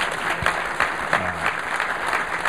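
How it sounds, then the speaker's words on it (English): An audience at a conference keynote applauds in a steady, moderately loud round of clapping that stays even throughout, with a faint low tone sounding beneath it partway through. "We should give them applause as well."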